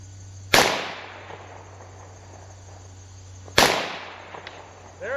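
Two sharp gunshots from a 1911 pistol in .45 ACP fired at a target 200 yards away, each a loud crack with a decaying tail about three seconds apart, over steady insect buzz outdoors.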